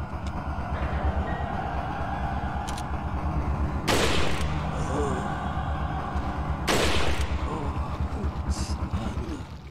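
In Resident Evil 4, a rocket launcher fires with two loud, sharp blasts a few seconds apart over a rumbling, rattling game backdrop, with a voice speaking faintly beneath.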